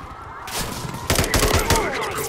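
Gunfire in Modern Warfare 3 with Makarov's forces attacking Verdansk, rapid loud bursts of shots kicking in after a quieter start and continuing densely to the end.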